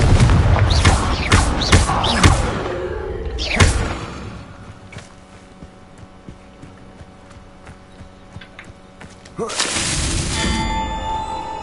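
A Confringo fire-blast spell cast in the Hogwarts Legacy video game sets off loud booming impacts and clangs in the opening four seconds, then a quiet low hum, and a bright burst returns near the end.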